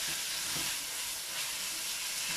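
Mussel ahkni with chili and peppers being stirred in a pot, a continuous bright sizzling and frying hiss with soft scraping movement, steady and close with no talking.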